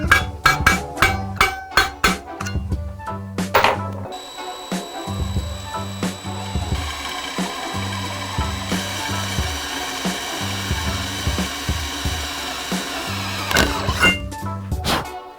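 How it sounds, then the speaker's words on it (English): Handheld power drill boring mount holes, starting with a string of sharp knocks and bursts, then a sustained loud whirring drone that runs under continued rapping for most of the clip. "I'm gonna drill the mount holes first and then I'll drill the hole for this"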